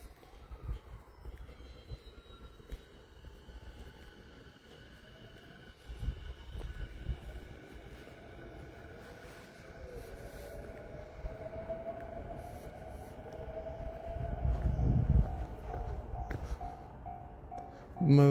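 A train rumbles past at a distance in Hamura, Tokyo, faint at first and growing louder with rolling wheel noise and a brief high squeal near the end.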